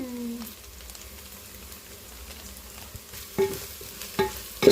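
Biryani masala being stirred and fried in a pan, a soft continuous sizzle with scraping stir strokes and a few louder clinks of the spoon against the pan near the end, no talking.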